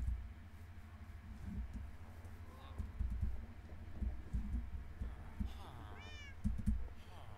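Minecraft cats let out several soft meows over a low rumbling background, with a couple of brief, rising calls toward the end.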